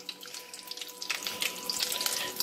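Doughnuts frying in hot oil give off a continuous crackling sizzle that grows busier and brighter partway through, with no talking.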